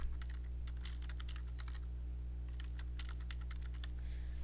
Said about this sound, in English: I'm going to type in the answer here.